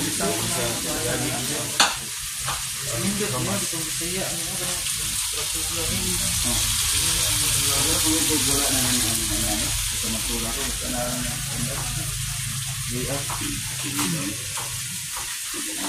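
Tinola ingredients sautéing in a pan, a loud continuous sizzle close up with occasional stirring knocks, under ongoing casual chatter.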